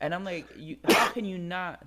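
A single sharp sneeze bursts out in the middle of a man's speech, close and loud, as talking continues on either side of it.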